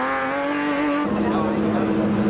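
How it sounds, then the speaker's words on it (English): A four-cylinder race car in Edson V Motors colours, number A3, accelerates away from the start of the Lichtenburg 400, its steady engine note breaking into a rougher, louder roar as it pulls off, close and continuous. "the Chepiks, in the Edson V Motors race coats number A3, and it sounds very crisp as it gets away there"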